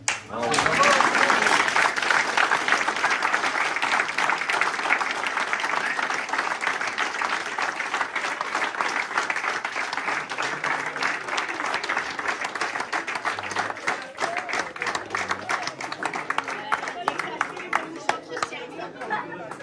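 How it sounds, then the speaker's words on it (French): Audience applause at an evening event held at a vocational high school in Toulouse, a sustained wash of dense clapping from a large crowd that stays loud throughout, with faint crowd murmur mixed in. "je vous remercie et je vous applaudis."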